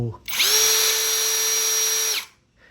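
A MASARU cordless drill with an interchangeable head, fitted with a screwdriver bit, drives a screw in one steady high whine of about two seconds that starts and stops abruptly, close up and alone.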